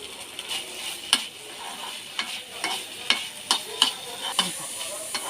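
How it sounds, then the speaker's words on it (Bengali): Chicken mince frying in a pan as it is stirred, a steady close sizzle broken by sharp spatula scrapes and clicks against the pan at irregular intervals, with no voices. "এখানে আমার কিমাটা পুরো ফ্রাই হয়ে গেছে"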